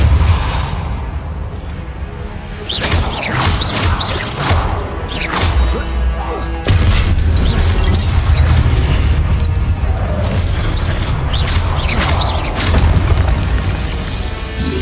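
Spell blasts from a Hogwarts video game, Incendio and Confringo fire spells, burst one after another as loud, booming explosions with whooshing cracks, forming a dense, continuous barrage.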